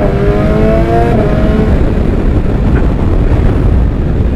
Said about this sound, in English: Actually, I can't believe that I'm riding this BMW S1000XR.